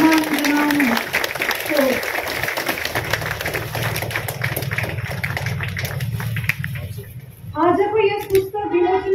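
Audience applause at a book launch held at a Gorkha war memorial event in Darjeeling, a sustained patter of clapping beneath someone speaking over a microphone.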